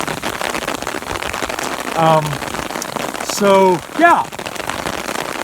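Heavy rain pours steadily on surfaces with a dense, hissing patter throughout, while someone talks briefly over it.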